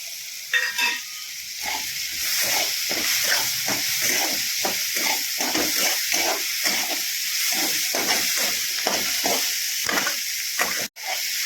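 Vegetables with peas sauté and sizzle in a pan for a quick vermicelli breakfast, a steady loud frying hiss broken by regular stirring scrapes throughout, with no talk.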